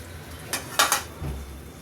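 Thinly sliced tomatoes go into a cooking pot of fish curry with pineapple, marked by a few close metallic clinks of a utensil against the pot and a soft, dull thud.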